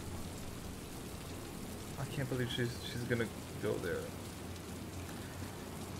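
Steady rain in the video game Heavy Rain, a constant hiss of drops on surfaces under a person talking briefly in the middle.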